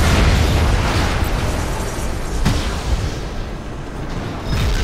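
A tech cannon fires and explodes in the video game Crysis, a loud rumbling boom that swells and rolls over several seconds amid continuous battle noise.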